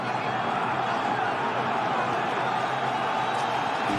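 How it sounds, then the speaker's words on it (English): Stadium crowd at the 2003 NFC Championship Game in Philadelphia, a steady, dense roar of massed fans that holds constant throughout, broad and distant-sounding with no distinct cheers or individual voices standing out. "this crowd is trying somehow to get behind their offense"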